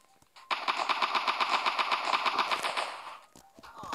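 A gun in the video game Block City Wars fires a rapid automatic burst, about fifteen evenly spaced shots in quick succession, fairly quiet overall, with a few stray single pops before and after.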